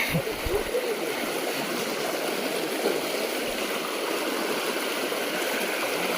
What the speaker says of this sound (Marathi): इकडे पाण्याला पोर्स जरा जास्त आहे